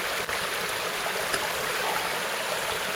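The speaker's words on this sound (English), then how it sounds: "There's more of a flow here than the first one." Steady, full stream water rushing and trickling under a bridge after heavy rain, a continuous close wash of flow with no voices.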